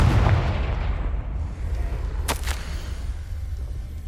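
A Confringo fire spell bursts in Hogwarts Legacy, a heavy low boom rumbling under a dense game soundscape, with a sharp crackling flare about midway through as the blast hits.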